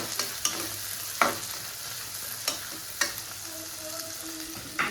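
Onion, curry leaves, ginger, garlic and coriander fry in oil for mutton gravy, sizzling steadily while a utensil scrapes and taps the pan in irregular stirring strokes.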